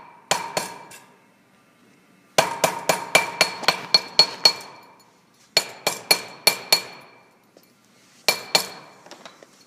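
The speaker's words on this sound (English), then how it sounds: "I'm going to hammer down all of the like bumps," Sharp metallic hammer strikes ring out against a metal ring on a table, coming in quick bursts of two to seven blows separated by short pauses, each hit bright and clinking with a brief ringing decay.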